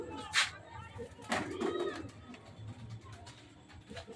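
A pet Chatiyal-breed pigeon coos softly nearby in short throaty phrases, faint against room noise, while a person talks quietly over it.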